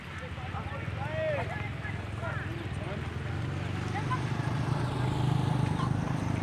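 Many horses gathered in the sea at Bima, West Nusa Tenggara, for a traditional horse-bathing event, with scattered whinnies and hoof and water noise over continuous crowd chatter.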